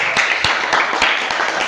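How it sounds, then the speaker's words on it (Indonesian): Brief, moderate clapping from a classroom of students in Indonesia, a short burst of scattered hand claps lasting under two seconds. "terima kasih tepuk tangan"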